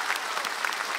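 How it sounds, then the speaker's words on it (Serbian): A studio audience on a television show claps for the evening's winners in a brief, dense burst of even applause. "Molim jedan aplauz za gospodina Hristosa Lilidica"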